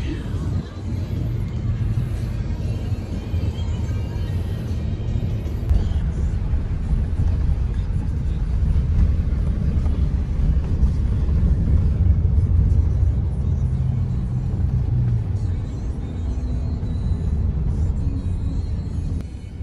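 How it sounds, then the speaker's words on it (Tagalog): Heavy road traffic heard from inside a Grab car on the way to a mall in southern Thailand: a constant low engine and road rumble that swells slightly midway, with faint voices murmuring underneath. "super traffic"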